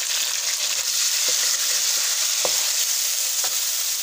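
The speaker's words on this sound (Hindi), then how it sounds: "तो हम 1 से 2 मिनट तक भूनेंगे इसको।" Tomato and crushed chili masala sautéing in a pan, a bright continuous sizzle close up with a few soft clicks of a spoon against the pan, no talking.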